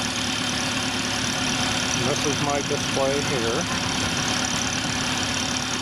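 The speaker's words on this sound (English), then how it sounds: "Crawford engine" A small Crawford engine idles at the 2024 Tioga Early Days engine and tractor show, a steady low chugging that runs throughout while someone talks close over it.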